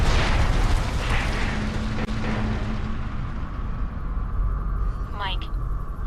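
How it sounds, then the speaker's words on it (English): Heavy, continuous rumbling explosion blasts in the video game Alpha Protocol fill the scene with deep booming texture, a synthetic chirp rising near the end, and muffled voices faintly beneath. "Poor guys don't look at explosions."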